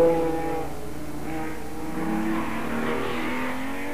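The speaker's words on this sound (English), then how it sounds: "Only the surviving cars press resolutely on." Race cars at the 1968 Le Mans endurance race roar steadily close by, with the engine pitch rising and falling as cars pass and accelerate. No voices are heard.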